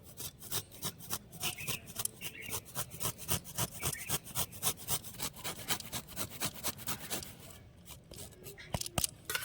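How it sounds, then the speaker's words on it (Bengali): Fresh ginger rubbed quickly against a hand grater for aloo chop, a steady rapid rasping of many short strokes that continues almost without pause, close and fairly loud, thinning out near the end. "এবার আদাটাকে না আমি এরকম একটা গ্রেটার দিয়ে একদম কুচু কুচু করে নেব"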